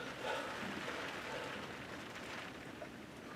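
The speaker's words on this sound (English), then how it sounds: "Oh, sounds like it's just started raining." Rain or hail falling outside in Derbyshire, a steady broadband hiss of drops on surfaces heard from indoors, faint and continuous with no talking.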